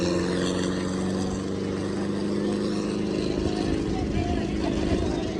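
A 2009 and a 2024 Russian tractor race side by side, their engines droning loudly and steadily with a low, sustained hum and rattle, while people talk over the noise.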